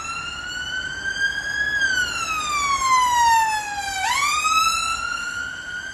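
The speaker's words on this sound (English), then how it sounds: "There's a emergency vehicle coming past, so I'll shut up and wait for that to go past." An emergency vehicle siren passes by on a street, its wailing tone rising and falling and bending in pitch as it approaches and goes past, loud and clear over traffic hiss.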